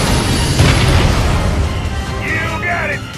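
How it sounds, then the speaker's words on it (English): Ion cannon blast in the mobile strategy game C&C: Rivals, a loud broadband rumbling burst that fades over a few seconds among other battle sounds. "Ion cannon activated."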